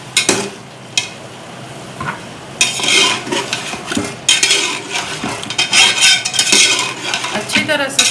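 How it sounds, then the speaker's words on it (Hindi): Mutton being stirred and fried with spices in oil, with frequent loud metallic scrapes and clinks of a spoon against the pot over a low sizzle. "अच्छी तरह से इसकी बुनाई कीजिएगा ताकि ये सारे इसके मसाले जो हैं भून जाए, बारीक हो जाए।"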